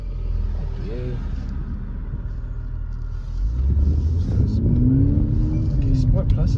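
Mercedes-AMG engine accelerating in Sport Plus mode: a low idle rumble swells into a louder, rising roar with climbing engine tones, and a person speaks over it.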